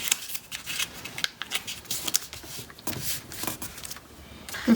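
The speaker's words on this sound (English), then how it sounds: "So we're going to fold this up to create a triangle." Paper being folded into a triangular corner bookmark, with soft close rustles and creases coming in short bursts and light handling sounds between them.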